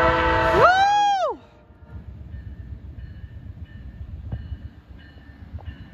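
An Amtrak passenger train pulls into Tomah station in Wisconsin, opening with a loud, close two-tone horn blast lasting about a second. A steady rumble of the passing train follows, with faint bell-like tones and excited voices underneath.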